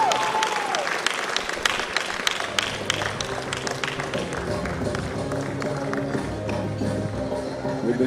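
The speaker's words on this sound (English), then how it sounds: "Let's give them a round of applause one more time" At an award presentation, an audience claps steadily throughout, a dense patter of applause with a voice talking over it, while music plays faintly underneath.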